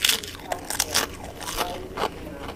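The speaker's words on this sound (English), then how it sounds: "Oh yeah, Doritos, mild cheddar dip, and coffee." Doritos chips crunched up close, several sharp bites and crackly chewing spread unevenly over a couple of seconds, with no talking.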